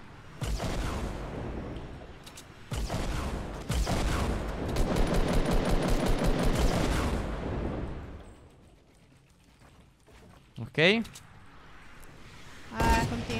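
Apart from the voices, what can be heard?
gunfire in a video game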